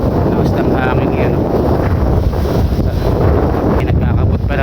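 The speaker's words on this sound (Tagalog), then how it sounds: "lakas ng hangin yan" Strong wind roars continuously across the microphone, a dense buffeting rumble throughout, with faint voices and outdoor activity underneath.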